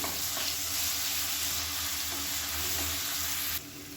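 Onions and crushed garlic sauté in a pan for a simple lunch, giving a steady, close sizzle that holds evenly throughout before dropping slightly quieter near the end, with no talk.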